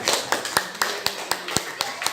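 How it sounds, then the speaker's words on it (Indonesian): A classroom group claps in rhythm for a presenting group, crisp synchronized claps landing roughly every quarter second over a noisy room murmur with some talking. "Oke, tepuk tangan untuk kelompoknya Wildan."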